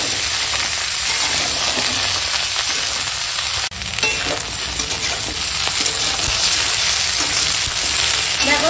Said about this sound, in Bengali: সুন্দর করে একটু ভেজে নেব